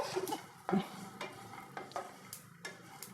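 Grated coconut, coriander seeds and sesame seeds dry-roast on low heat in a pan, stirred with quiet, repeated scrapes and soft rustles. There is a faint sizzle and an occasional light clink of the spoon against the pan.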